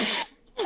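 A sneeze during a tabletop game session, two loud broadband bursts with a short quiet gap between them, close to the mic.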